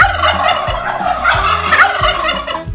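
A turkey gives a close, loud gobbling call: a rapid, warbling burst of throaty notes that lasts nearly three seconds.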